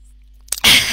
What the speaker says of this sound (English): I'm now gonna sneeze